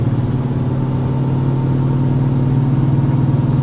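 A damaged truck engine in Euro Truck Simulator 2 drones loud and steady, its low rumble carrying a fast, even pulsing rattle throughout.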